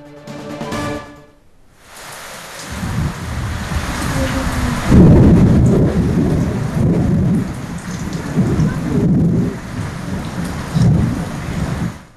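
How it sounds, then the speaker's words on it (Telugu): Steady heavy rain pours down with rolling thunder rumbling through, loud and close, after a brief quieter opening. "కీసర ఘట్కేసర్ మండలాల్లో ఉరుములతో కూడిన వర్షం పడుతోంది."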